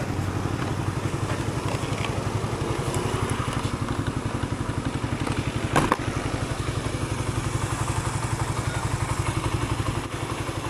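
A motorcycle engine runs steadily at close range with a fast, even putter, loud and constant, with a brief clatter around the middle and no talking.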